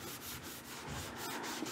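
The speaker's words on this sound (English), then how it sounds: "Now I've just put a 220 on my little sanding mouse" Hand sanding of a shellac-finished china cabinet with a small sanding mouse fitted with 220-grit paper gives soft, rhythmic back-and-forth rubbing strokes, quiet and close, with no talk.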